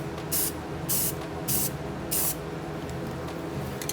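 Aerosol paint sprays onto a vehicle's brake calipers in four short, evenly spaced bursts of close hiss over a steady background hum.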